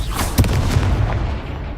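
A fire spell cast in the Hogwarts Legacy video game: a loud, dense burst of booming whoosh with a sharp thump near the start, sustained roaring for under two seconds.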